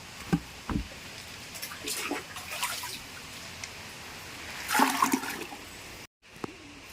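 Water rushes and splashes at a waterfall near Srisailam, with faint distant voices and a few louder bursts over the flow.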